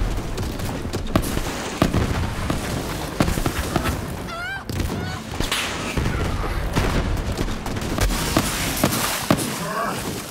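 Explosions and gunfire from exploding enemies in the video game Borderlands 3, a dense, continuous barrage of booms and bursts at steady loudness with busy game effects throughout.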